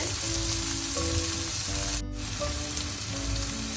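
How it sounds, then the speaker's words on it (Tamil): Long beans sautéing in a pan for a Tamil stir-fry, a continuous close sizzle with a brief dropout midway and faint background hum, no talking. "இந்த பைத்தங்க நல்லா வதங்கிட்டுது."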